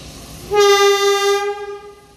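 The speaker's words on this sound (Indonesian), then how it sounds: "Kereta api komuter lain Bandung Raya diberangkatkan dari stasiun Ranca Ekek." A loud, sustained horn blast from a Bandung Raya commuter train departing Rancaekek station, Indonesia, with strong harmonic tones sounds for about a second, then fades away over faint rumbling.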